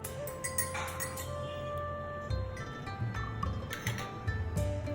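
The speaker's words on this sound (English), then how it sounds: "just a few drops of milk. Give it a light stir." A spoon stirring Darjeeling tea with a few drops of milk in a glass, with soft clinks against the glass repeating over a steady background hum.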